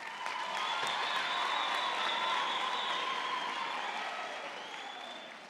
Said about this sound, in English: our newest cohort of CUT graduates who should all now give themselves a huge round of applause